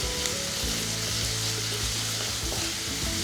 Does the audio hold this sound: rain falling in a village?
no